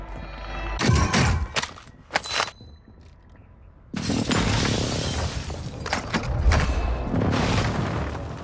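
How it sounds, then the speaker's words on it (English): Airstrike explosions in Call of Duty Warzone 2: loud, heavy booms with crackling debris burst out, pause briefly, then roll into a sustained barrage of rumbling blasts. "Hostiles called in an airstrike."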